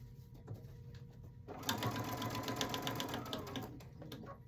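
A sewing machine back stitching the seam of a placemat being sewn into a basket, starting faintly then running in a fast steady whir partway through, close and fairly quiet with no talking.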